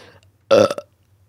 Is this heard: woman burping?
yes